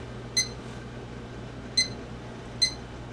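A kitchen timer being set gives three short, sharp electronic beeps, spaced irregularly and close by, over a low steady background hum.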